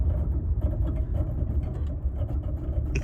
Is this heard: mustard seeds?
no